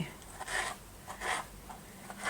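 A knife slicing a tomato for spiced coral lentils, three short scraping cuts in an even rhythm, close and quiet.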